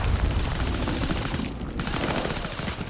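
Continuous rapid gunfire and explosive combat noise from the video game Call of Duty Vanguard, loud and dense throughout, with a brief dip in the middle.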